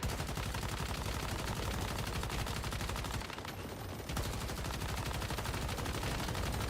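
Continuous, dense automatic gunfire in the video game Once Human is aimed at a world boss. The loud, rapid shots from several guns overlap steadily, and there is a brief dip just past the three-second mark before the barrage resumes.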